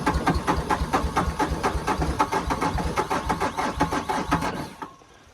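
A snowplow's diesel engine cranks without catching, a fast, even series of loud mechanical chugs from the starter turning over, then it cuts off abruptly near the end into quiet.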